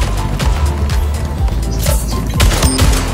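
Rapid automatic gunfire in the video game Splitgate, loud bursts of shots with sharp repeated cracks and a few heavier impacts, continuous across the short stretch.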